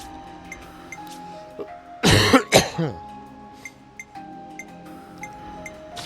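A few harsh, loud coughs burst out in a quick cluster, standing alone against a quiet game-menu background with soft chimes, in the game Xenoblade Chronicles 3.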